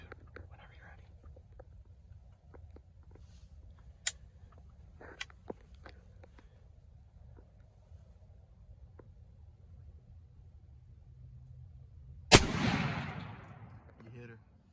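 A single sharp rifle shot cracks out during a deer hunt, loud and close, with a long rolling echo after it, following a stretch of quiet outdoor ambience with soft whispering and small rustles.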